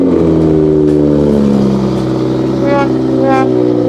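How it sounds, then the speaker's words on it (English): Toyota Supra MK5 engine catching and revving after start-up, a close rising mid-pitched drone with sharp blips near the end. "Starting off the car to see if it's getting some power."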